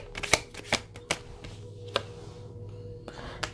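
Tarot cards being shuffled and pulled by hand, a run of crisp close riffling snaps and slaps at an uneven pace, some sharp and loud, others softer, with no voices.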